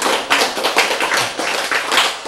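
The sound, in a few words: audience clapping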